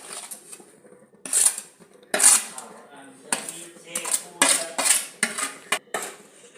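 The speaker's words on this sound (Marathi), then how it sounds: "आता आपण रवा भाजलेला घालत आहे." A spoon clanks and scrapes against a pan as roasted semolina is stirred into mango pulp, a series of sharp metallic knocks and rattles at close range with no voices.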